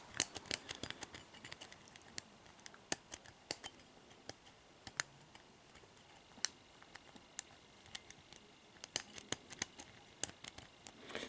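Metal picking tools work on an ERA Discus padlock with serrated pins, making sparse, close, faint clicks and ticks scattered irregularly throughout, with no talking.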